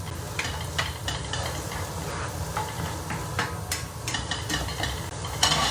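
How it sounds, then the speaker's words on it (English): Onions and garlic frying in a pan make a moderate sizzle broken by scattered clicks and scrapes of stirring, with no one talking. "So we'll just let the onions and garlic go in the pan for a while."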